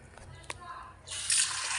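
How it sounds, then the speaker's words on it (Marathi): Faint clatter and a brief tap at first, then a steady splashing hiss of rice being washed under a running tap starts and carries on to the end. "आपण हे तांदूळ स्वच्छ धुवून घेऊ नळाखाली"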